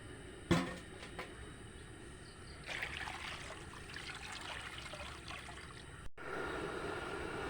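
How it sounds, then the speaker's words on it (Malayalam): Water poured into a pot of rice for crab biryani, a steady trickling and splashing stream after a brief knock, continuing at moderate volume with a short break near the end, no talking. "അപ്പോൾ നമുക്ക് അരി വേകാനായിട്ടുള്ള വെള്ളം നമുക്ക് ചേർത്ത് കൊടുക്കാം."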